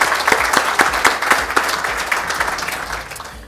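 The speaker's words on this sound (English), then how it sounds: "So just a round of applause to the UAE." A crowd applauds steadily for a few seconds, a dense patter of clapping that tapers off at the end.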